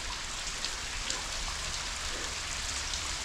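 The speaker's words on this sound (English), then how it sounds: "as the rain's coming on" Steady rain falls near a bridge and hawthorn on a Pennine Way walk, a dense even hiss of drops pattering on surfaces with no talk.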